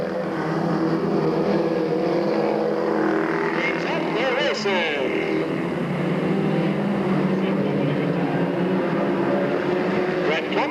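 Race cars roar around a short-track oval at Delta Speedway in 1997, a loud continuous engine drone with rising and falling pitch as the cars pass, heard from the stands.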